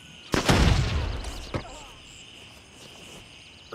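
A frag grenade bursts with a heavy, close boom in the video game Gray Zone Warfare, followed by a short secondary thump and fading rumble under tense game ambience.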